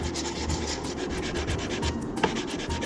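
A rasp scraping back and forth on a freshly cut wooden chair leg, quick rhythmic rubbing strokes repeated close up at an even pace, with a sharper knock near the end and no voices.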